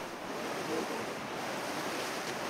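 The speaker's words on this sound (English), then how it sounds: "some ice calved off a glacier and also caused those waves" Ocean waves stirred up by glacier ice calving in Antarctica, heard as a steady, broadband wash of surf with wind noise, continuous and fairly close for the whole stretch.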